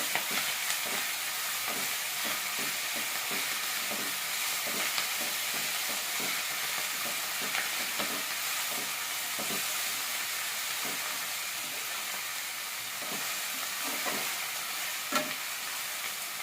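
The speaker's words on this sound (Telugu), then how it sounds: "తోటకూర ఆకులని ఆ ఉల్లిపాయ మిశ్రమంలో వేసుకొని మరొకసారి అడుగు అంటకుండా కలుపుకోవాలి" Amaranth leaves are stirred into a sizzling onion mixture in a pan, with a continuous frying hiss and faint repeated scraping strokes running steadily throughout.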